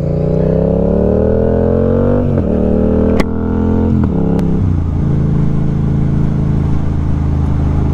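A Yamaha MT-07 motorcycle fitted with an aftermarket exhaust idles loudly up close, with a couple of sharp throttle blips midway before it settles back into a steady, rumbling idle.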